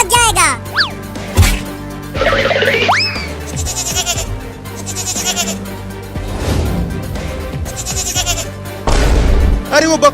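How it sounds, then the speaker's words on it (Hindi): A cartoon goat kid bleats in several sharp, rising cries, mixed with bouncy comic sound effects, with an animated character talking around them. "अरे वो बकरी का बच्चा मेरे खेत में आ रहा है मेरा लालमी खाने"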